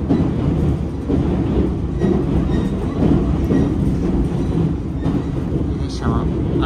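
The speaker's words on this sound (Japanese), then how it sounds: "列車は荒川を渡ってます" A tatami-floored excursion train, the rapid Ozashiki Omiya Kai-no-kuni service bound for Kobuchizawa, heard from inside as it crosses the Arakawa River: a loud, steady rumble of wheels on rails with a continuous, even roar throughout.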